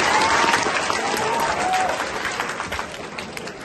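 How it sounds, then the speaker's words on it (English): Children in a classroom clap together in a loud, dense burst that gradually thins, with faint voices mixed into the clapping. "Let's give it a clap."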